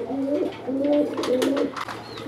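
Pigeons cooing close by, a pair of red-and-white round (gola) pigeons, with repeated soft rolling coos and a few brief chirps over a steady background hum; no talking.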